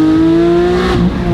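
Straight-piped Porsche 992 GT3 with IPE headers and exhaust, revving loudly and close by on a misty, slippery road, a sustained high engine drone that rises and then briefly dips.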